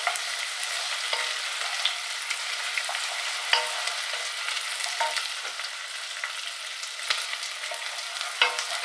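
Broccoli soup ingredients cooking in a pot over high heat give off a steady sizzling, frying crackle with scattered small pops and stirring scrapes throughout.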